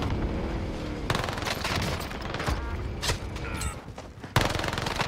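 PPSh submachine gun fire in Call of Duty Vanguard, dense rapid automatic bursts in several runs with loud sharp cracks and game ambience in between, close and forceful.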